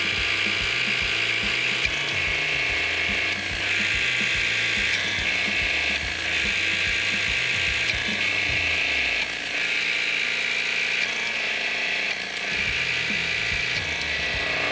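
A steady stream of rapid mechanical clicking from an HY-115 hydraulic pump being operated toward 3,000 PSI, loud and continuous throughout with no talking.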